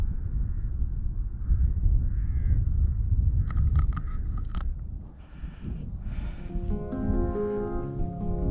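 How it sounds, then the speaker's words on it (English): Strong wind roars over a hilltop on the South Downs Way while crows caw a few times in a short cluster in the middle distance, followed by further bird calls above the steady gusting. "What I can hear are the birds, and it's peaceful."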